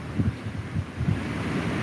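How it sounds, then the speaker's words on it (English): Low, blustery wind rumbles steadily against the microphone, with gusty buffeting pulses and no voices. "It's too windy outside."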